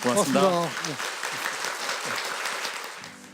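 Applause from an audience follows a constitutional law lecture at a National Assembly citizens' academy, a steady moderate clapping that runs after a brief spoken thanks and fades toward the end.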